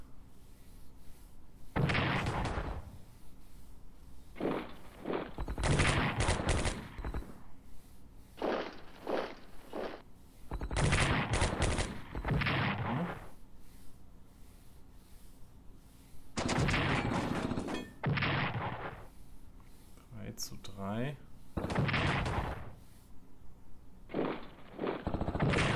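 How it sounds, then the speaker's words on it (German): Artillery fire in the WW2 strategy game Strategic Command, Storm over Europe: a series of loud, sharp blasts come in uneven clusters over about 25 seconds, with no talking. "Verteidigung durch Artillerie"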